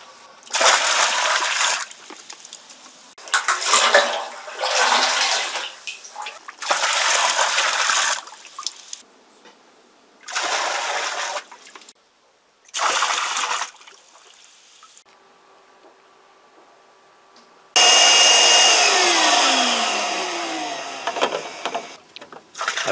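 Water gushes and splashes as a narrowboat's water tank is drained, loud close bursts broken by quiet pauses, then a long steady rushing flow that slowly fades.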